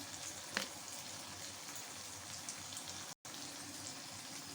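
Tomatoes sauté in a pan for brinjal chicken masala, giving a steady, even sizzle that hisses on without a break, soft and close, with one small tap near the start and a brief dropout later.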